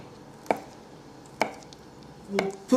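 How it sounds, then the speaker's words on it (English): A knife slices through soft bocconcini cheese on a board, three separate muted taps about a second apart, close and fairly quiet against a still room. "We'll cut the bocconcini as well in some slices"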